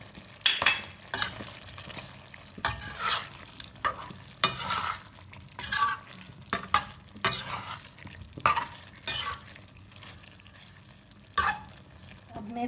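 Potatoes and fenugreek leaves are stir-fried in a pan, with a spatula repeatedly scraping and clattering over a soft sizzle in irregular bursts, close and fairly quiet.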